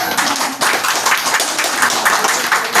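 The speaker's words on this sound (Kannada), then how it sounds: "ಚಪ್ಪಾಳೆ ಕಡಿಮೆ ಬಂತು," An audience claps steadily and fairly loudly in a hall during a Sunday address, dense and continuous with no voices on top.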